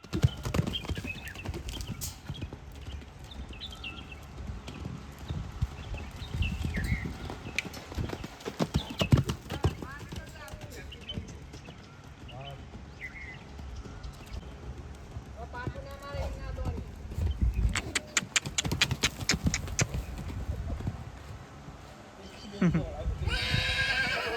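A horse's hooves clip-clop in steady, rhythmic runs on a farm, with several loud whinnies breaking in near the end and someone talking and urging the horse on over the sound.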